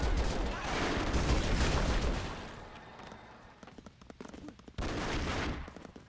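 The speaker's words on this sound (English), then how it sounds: "I'm shooting from above" Gunfire in the side-scrolling action game Broforce, heard as loud, dense bursts of rapid shooting and explosions, a quieter stretch of scattered pops in the middle, then another heavy burst.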